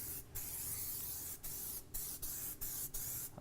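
Aerosol wheel cleaner sprayed onto a car rim in a series of short hissing bursts, about six quick sprays with brief gaps between them, close and clear.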